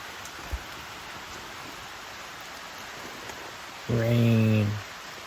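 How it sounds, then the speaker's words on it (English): Rain falls outdoors along the Appalachian Trail as a steady, even hiss that fills the whole stretch, with a voice briefly speaking near the end. "Rain."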